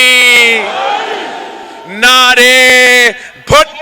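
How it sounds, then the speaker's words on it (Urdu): Crowd at a PPP political rally in Rahim Yar Khan roaring slogans back in loud sustained shouts, following a leader's amplified call, with repeated bursts of massed voices. "نعرے بھٹو"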